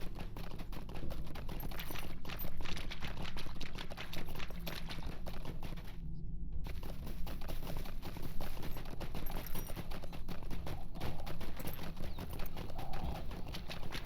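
A horse's hooves clip-clop steadily as it is ridden in the online game Lord of the Rings Online, an even, continuous trotting rhythm with a brief gap partway, heard alone at moderate level.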